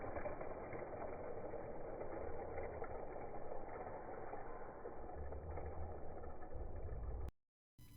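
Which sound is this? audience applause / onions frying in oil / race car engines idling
race car engines idling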